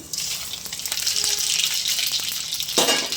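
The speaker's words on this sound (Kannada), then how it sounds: "ಒಗ್ಗರಣೆಗೆ ತೊಗೊಂಡಿರೋಂಥದ್ದು ಎಲ್ಲ ಉದ್ದಿನಬೇಳೆ ಕಡಲೆಬೇಳೆ ಸಾಸಿವೆ ಮೆಣಸಿನ್ಕಾಯಿ ಎಲ್ಲ ಒಟ್ಟಿಗೆ ಹಾಕೊಂಡ್ಬಿಡ್ತೀನಿ" Urad dal, chana dal, mustard seeds and green chillies sizzle in hot oil for a tempering, a steady loud frying hiss with small pops and a brief stirring scrape near the end.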